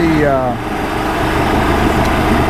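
An outboard boat motor, stiff after sitting all winter, runs steady and loud at around 1200 RPM, with a dense continuous engine drone and a voice talking over it.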